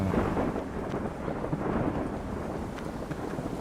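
Thunderstorm in the video game Ico, a heavy, low rolling rumble of thunder over a constant dense wash of rain, loud and close throughout with no voices.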